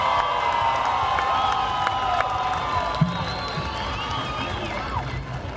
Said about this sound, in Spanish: Vamos a darle un fuerte aplauso y una gran bienvenida.